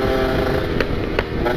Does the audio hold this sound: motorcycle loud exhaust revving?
yes